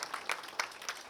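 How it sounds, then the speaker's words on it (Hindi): A small audience gives brief, faint applause at an indoor knowledge-sharing session, with a few distinct claps standing out in a short burst. "इनके लिए जरा जोर से ताली बजा दीजिए"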